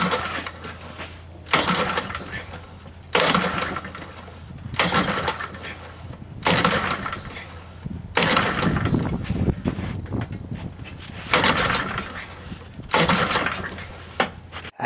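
A Toro 5/24 snowblower engine is pulled over repeatedly in attempts to start it, giving bursts of rough cranking and sputtering clatter separated by short pauses, loud and close.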